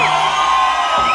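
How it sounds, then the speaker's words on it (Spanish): Loud crowd at a live sonidero dance at a discotheque in Atlanta, a dense wash of shouting and whistling that fills the whole moment. "Gritos y chiflidos a los que quieran dos más."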